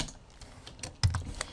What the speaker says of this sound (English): for a quick renaming, you can just press F2 on your keyboard